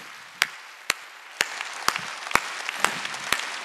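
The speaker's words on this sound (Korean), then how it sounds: "박수 치라고." A church congregation at a Sunday worship service claps together in a slow, steady unison beat, about seven sharp, evenly spaced claps, loud and close, with no voices over them.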